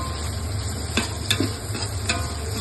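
Onions and green chillies sautéing in a pan for biryani, a low continuous sizzle with a few soft scrapes and taps as they are stirred, close and fairly quiet with no talking.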